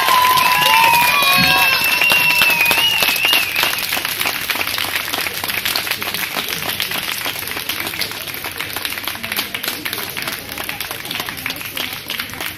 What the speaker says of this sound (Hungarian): Még egyszer egy nagy tapsot neki